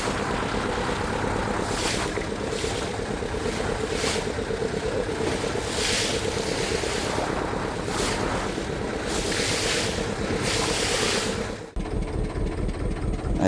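A trawler sets off again on a river in a storm, its engine rumbling steadily under loud wind buffeting the microphone and rushing water, with a brief dip near the end.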